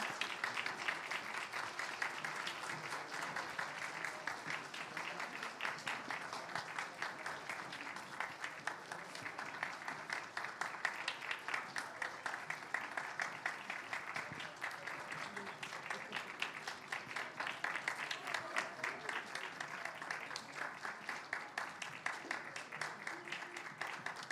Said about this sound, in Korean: 다시 한번 박수로 축하해 주시기 바랍니다